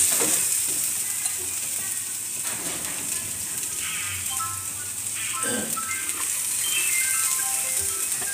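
Onion frying in a pan for a home-cooked lunch, a continuous close sizzle with intermittent stirring scrapes throughout, with faint background noises.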